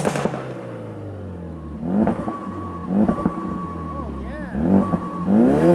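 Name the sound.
GFB DV+ diverter valve on Ford Focus RS, heard outside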